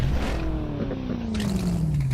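Monster truck engines roar loudly at the start of a race at Hagerstown, with a sustained throaty drone whose pitch slides steadily as the trucks put power down.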